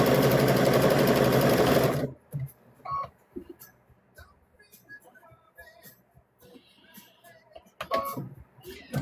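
A sewing machine stitching a decorative pattern on quilt-block fabric runs loud and fast with a dense mechanical whir for about two seconds, then stops, leaving quiet handling clicks and faint rustles.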